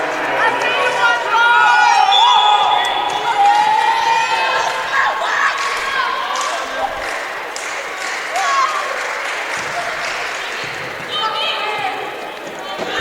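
Crowd at a 2018 Tampa vs. Barry college volleyball match cheering and shouting loudly throughout, with high excited voices, some clapping and squeaking shoes in an echoing gym.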